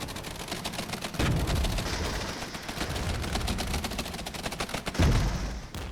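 Mortar and gunfire rattle through a battle in the war game Regiments, a dense, continuous crackle of rapid shots with heavier booming hits around the first and fifth seconds, loud and close.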